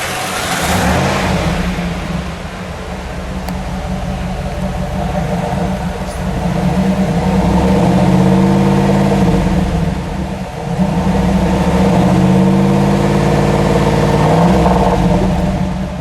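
A 1994 Pontiac Trans Am Convertible, 25th Anniversary edition, runs close by with a steady, loud engine rumble and repeated swells of revving throughout, with no talking.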